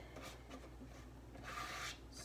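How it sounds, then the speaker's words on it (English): Brownie batter being scraped from a mixing bowl into an oiled, lined baking dish, with soft rubbing and rasping strokes, a louder scrape near the end, close and quiet. "Scrape all that in there."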